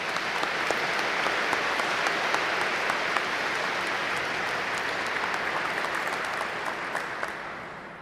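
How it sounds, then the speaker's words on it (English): Applause at a law school commencement as the crowd honors its professors, a broad, continuous roar of many hands clapping in a large space, sustained for several seconds before tapering slightly at the end. "can we give them a round of applause?"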